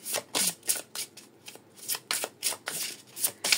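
Tarot cards being shuffled in a steady series of crisp riffling bursts, about a dozen quick papery flicks at close range with no voices.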